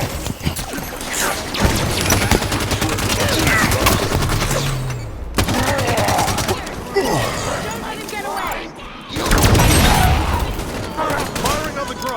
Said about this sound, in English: Firing on the grunt!